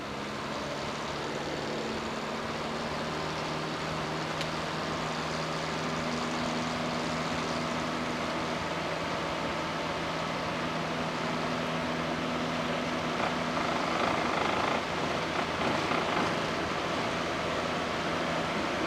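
A small airplane engine runs steadily at a low, even drone while taxiing uphill before takeoff, near and continuous throughout with a slight swell late on and no talking.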